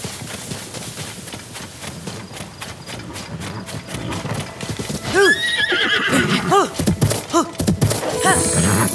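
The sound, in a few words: horse neighing and hooves in a video game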